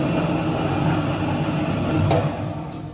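A potato and sweet potato washing machine runs with a loud, continuous mechanical rumble and rattling churn, close by, the drone easing slightly toward the end.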